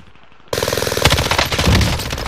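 Automatic gunfire in Call of Duty: Warzone erupts after a brief quiet moment, a loud close rapid stream of shots that thickens into overlapping bursts.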